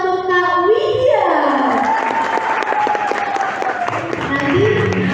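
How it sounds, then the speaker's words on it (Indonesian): A seminar audience claps for a speaker, scattered applause running under loud voices and cheers that dominate the sound from start to finish. "teman-teman boleh kasih tepuk tangan untuk the best public speaker untuk hari ini"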